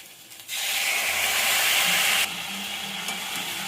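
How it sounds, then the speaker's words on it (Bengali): Spice paste being fried with potatoes and drumstick pieces in a pan, a sudden loud sizzle that surges and then settles into a steady, slightly quieter hiss, close up and without speech. "এই মশলাটা কষিয়ে নেব আলু ডাঁটার সঙ্গে। ভালো করে কষাতে হবে।"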